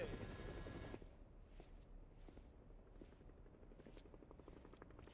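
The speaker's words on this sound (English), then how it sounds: "That sounds like a helicopter." A video game helicopter's rotor chops rhythmically at a distance, with a steady mechanical drone and scattered sharp impacts over a constant background hum.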